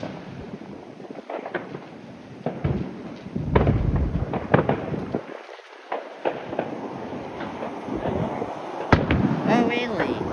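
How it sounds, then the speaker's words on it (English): Fireworks at the 7th annual show in Bell City: sharp booms and crackling pops burst at irregular intervals across the clip, some nearby and loud, against a continuous outdoor rumble. "A 7th annual fireworks show at Bell City."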